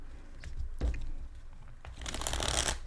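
Tarot cards being shuffled close by, a crisp riffle and then a longer burst of rapid flicking, with a few soft clicks and bumps in between.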